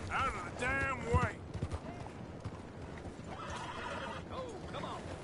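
In Red Dead Redemption 2, a horse gives a loud whinnying neigh at the start, then hooves clip-clop steadily along, with a second fainter neigh later under continuous ambient game sound.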